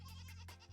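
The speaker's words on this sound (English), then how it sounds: "More goats have gathered below, apparently." Goats bleating in a video game, a short, loud, wavering bleat with a strong nasal tone, heard up close and alone.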